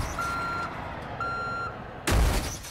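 A truck in Far Cry 5 gives two short electronic reversing-style beeps, then a sudden loud low thud or crash bursts in at the end.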